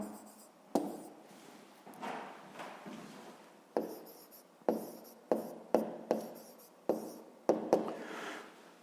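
A pen writing on paper while working a grade 5 math exercise, with repeated short scratching strokes and taps in a quiet room, close and fairly soft, without talk.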